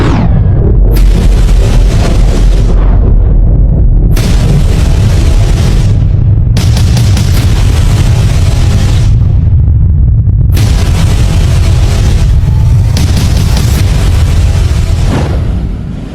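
A nuclear bomb explosion rendered as a series of huge, deep booms with long rumbling roars, several heavy blasts following one another and merging into a continuous, very loud low rumble.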